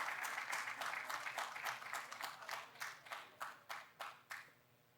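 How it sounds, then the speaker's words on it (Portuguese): An audience at an opening ceremony applauds an honoree. The dense clapping is steady at first, then thins to a few separate, fading claps and ends in near silence. "uma salva de palmas à nossa homenageada"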